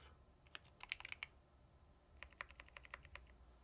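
Soft bursts of typing on a computer keyboard while coding, two quick clusters of clicky keystrokes separated by a brief pause, faint and close.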